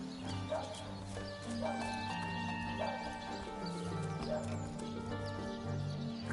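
Horse sounds from a PS4 video game: clip-clop hooves and a neigh over steady in-game music, with a voice faintly in the background.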